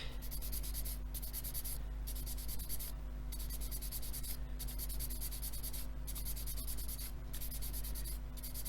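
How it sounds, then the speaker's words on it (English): A skinny sanding stick rubs ejector pin marks off a plastic part of an Airfix 1/24 F6F-5 Hellcat model kit. The rasping is close and continuous, in quick back-and-forth strokes with brief pauses, over a steady low hum. "they're going to sand out, they're not very deep at all, so I'll just remove them with a skinny stick"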